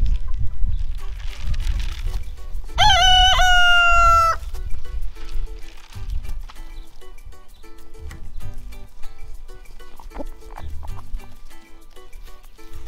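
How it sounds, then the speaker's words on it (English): Backyard chickens feeding on sprouted oats cluck and mutter close by, a loud rooster crow rising briefly early on, with scattered soft clucks and pecking continuing throughout. "Here you go, chickens."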